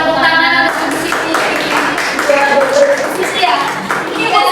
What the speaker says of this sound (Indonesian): Tepuk tangan untuk Ibu Siti